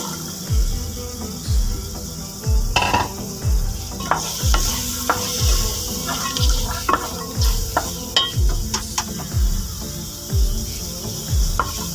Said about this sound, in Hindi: अब मैं इसमें शामिल करूँगी मटर।